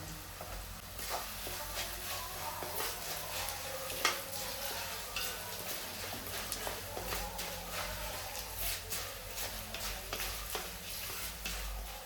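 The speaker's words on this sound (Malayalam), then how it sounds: "ഇനി നമുക്കിതിലേക്ക് അര ടീസ്പൂൺ മഞ്ഞൾപ്പൊടി ഒരു ടീസ്പൂൺ കായപ്പൊടിയും കൂടിയിട്ട് നമുക്കൊന്ന് ഇളക്കി കൊടുക്കാം" Turmeric and asafoetida being stirred into fried ginger and garlic in a pan for mango pickle, with a steady crackling sizzle and repeated scraping strokes of the spoon, close and continuous.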